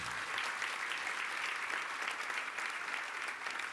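Sustained applause from an audience at a Jain religious discourse, dense steady clapping throughout with no pauses, loud and even, no voices over it.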